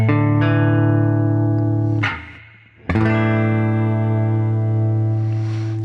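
Guitar chords ringing out, a sustained sus2 strum that fades before a bright sus4 chord is struck and left to sustain clearly and loudly, with no talking over it.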